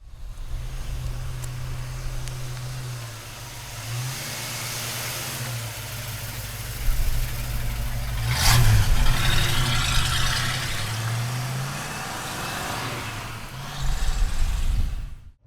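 A 1968 Ford Mustang Bullitt with a 5-speed runs close by, its V8 idling with a deep burble and blipping into several revs, a sharp burst midway and another swell near the end.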